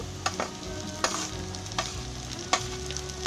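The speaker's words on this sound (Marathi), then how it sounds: "आता याच्यामध्ये मी टोमॅटो टाकते." Onion and tomato fry in a pan for a tofu scramble, a continuous quiet sizzle punctuated by several sharp spatula scrapes at a loose, even rhythm, close by with no talking.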